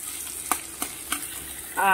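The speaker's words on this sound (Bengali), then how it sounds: "এপাশে হচ্ছে মাংসর জন্য পেঁয়াজ ভাজা হচ্ছে" Onions fry for a meat curry in a pan, giving a steady, close sizzle with a few soft stirring scrapes at regular intervals.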